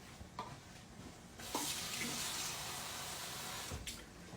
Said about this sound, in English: Let me get some water in here.